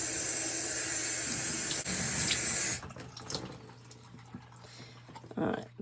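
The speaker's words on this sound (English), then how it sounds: "Give it a really good rinse." Tap water runs hard into a sink for about three seconds while a glass jar with bits of hot glue left on it is rinsed. The flow then stops, leaving light splashes and handling clatter.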